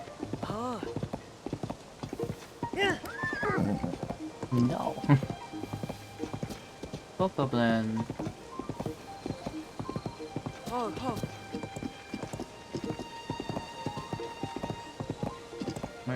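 Hooves of a big horse clip-clop at a steady walking pace in Zelda: Tears of the Kingdom, mixed with game sounds and a voice speaking over them.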